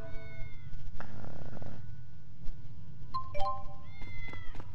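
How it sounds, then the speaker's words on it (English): A cat meows several times in the video game Tales of Xillia 2, clear close mewing calls over a low game soundtrack with no talking. "Oh, we found the cat!"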